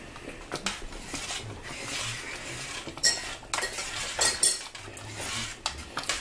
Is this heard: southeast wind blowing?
no